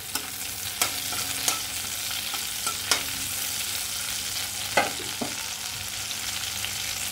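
Dry red chillies and cumin seeds sizzle in hot prawn oil, a steady crackling fry broken by a few sharp pops and light stirring clicks.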